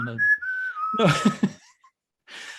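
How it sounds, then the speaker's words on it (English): A person whistles a short rising-then-falling tune up close, followed by brief speech and then a breathy trailing whistle or hiss. "no matter how much you whistle"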